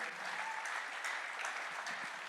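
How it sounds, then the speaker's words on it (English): Audience applause for a panel of cast and crew at a real estate summit, a steady wash of clapping hands from a crowd that holds evenly throughout with no voices over it. "Please, a round of applause for them."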